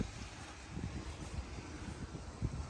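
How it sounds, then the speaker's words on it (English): Low rumbling wind buffets the microphone in uneven gusts, a dull, continuous roar with no voices. "It's windy as hell."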